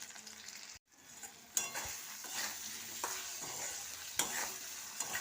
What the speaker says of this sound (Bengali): ভালো করে কষিয়ে নেবো এটাকে।